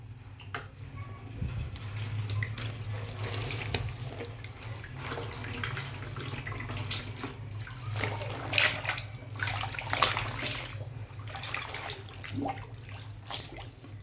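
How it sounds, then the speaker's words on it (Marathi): Cotton clothes are rinsed in clean water, with running and splashing water sloshing irregularly over a low steady hum, close by and moderately loud. "अशा स्वच्छ दोन पाण्याने धुवून घ्यायचे"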